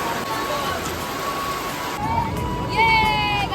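Heavy rain pours down on an outdoor mobile theatre venue in Assam, a steady loud hiss throughout with crowd murmur and a few voices underneath.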